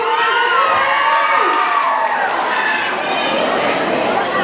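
A crowd at a fiesta show mini concert cheers and shouts loudly and continuously, with excited voices and whoops filling the space throughout.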